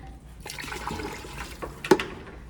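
Water is poured into a container of ceramic glaze, a soft continuous splashing and trickling with a brief sharper splash near the end.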